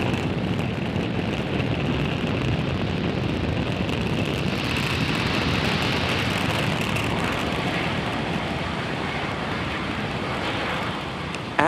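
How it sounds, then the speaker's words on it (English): A SpaceX Falcon 9 rocket lifts off from Space Launch Complex 40 carrying the Turksat 6A satellite, a loud, steady, broadband roar that holds at full strength throughout, with wind buffeting on the microphone. "Falcon 9 has successfully lifted off from Slick 40 carrying the Turksat 6A satellite"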